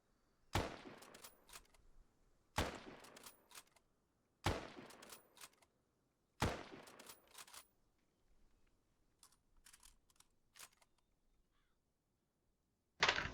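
A scoped Lee-Enfield No. 4 Mk1 rifle in Arma 3 fires four sharp, loud shots about two seconds apart, each with a short decaying tail, followed by quieter bolt-action and reloading clicks.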